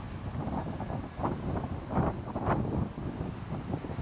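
Strong coastal wind at Inceburun near Sinop buffets the microphone in continuous low rumbling gusts, swelling a few times, with no voices.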